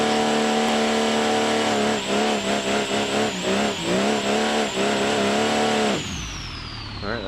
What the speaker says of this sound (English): We'll burn out? Warm it up a bit?